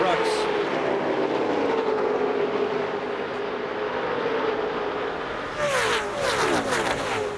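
NASCAR Craftsman Truck Series trucks race at Daytona International Speedway in 2004, a 35-truck field. Their engines hold a continuous roaring drone whose pitch glides slowly, then a closer pack surges past near the end, with a commentator's voice faintly underneath.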